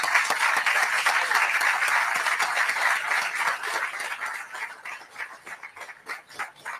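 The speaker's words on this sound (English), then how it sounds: "Let's give them a round of applause." An audience claps for UPS employees at a local event at a new hangar site, with sustained, dense applause that thins into scattered claps toward the end.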